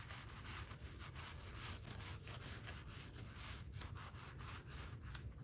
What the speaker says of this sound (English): I'm kind of scraping that with my fingernail because it's folded over to the other side.